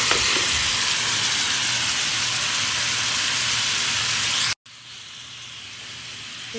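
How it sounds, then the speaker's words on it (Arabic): Meat sizzles loudly in a pot of caramelizing sugar, a steady dense hiss that cuts out abruptly near the end and then resumes more quietly, with no talking. "أول ما يتكرمل السكر على طول نضيف اللحمة اللي نشلناها"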